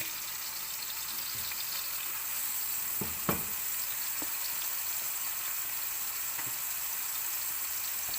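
Beef patties fry in hot oil in a pan, a steady close sizzle running throughout, with a few faint clinks and stirring touches around the middle.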